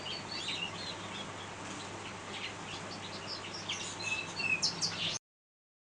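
Gloucester and Corona canaries in a bird room give a steady stream of soft chirps and tweets over a constant low hum, with a few louder calls near the end before the sound cuts out.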